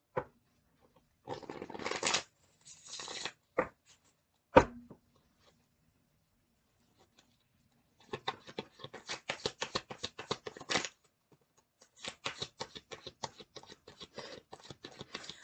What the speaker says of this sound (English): One more shuffle, and we can begin.